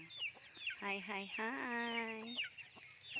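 Chickens clucking and crowing nearby at a rural home while being fed, with a drawn-out harmonic rooster call in the middle and scattered clucks around it; a person briefly speaks a greeting.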